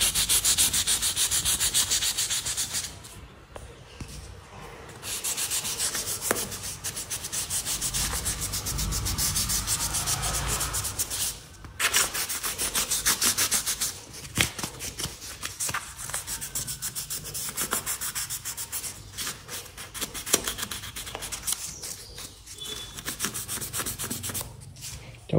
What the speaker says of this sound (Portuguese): a gente vai utilizar uma lixa 600 para fazer o lixamento do verniz